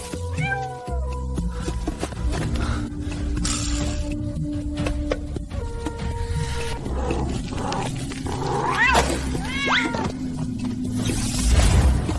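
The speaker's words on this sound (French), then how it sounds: "Encore ce fichu chat." A cat meows repeatedly, several drawn-out rising cries at close range, over a busy background of other sounds.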